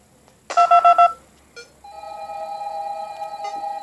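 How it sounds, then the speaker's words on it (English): A telephone in the Five Nights at Candy's 2 horror video game: a quick burst of electronic beeping tones, then a steady, loud synthetic ringing tone that holds on without a break. "Cindy, please answer that phone"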